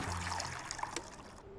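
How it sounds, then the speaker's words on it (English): Wine trickles from a bottle into a glass in a Sherlock Holmes video game, a steady close pour lasting just over a second before it cuts off. "you better pour out the wine, and quick."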